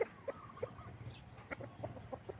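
Chickens in a pen on a small farm cluck softly and intermittently at a moderate distance, with short scattered calls over a steady low background hum.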